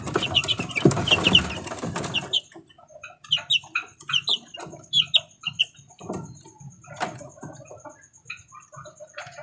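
Chickens cluck near newly hatched chicks, with a loud burst of hen clucking at first, then a run of short, high chick peeps and soft clucks close by.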